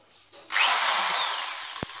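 After a brief quiet start, a power drill spins up loudly while building a hydroponic aeroponic system, running steadily with a high whine, ending with a small knock.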